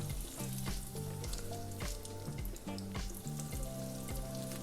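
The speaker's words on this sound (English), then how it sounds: "We got our oil down at 350. We're gonna start dropping in our croquettes." Potato croquettes drop into oil heated to 350 degrees and fry with a steady, dense sizzle and bubbling, the crackle loud and continuous throughout, with no voices.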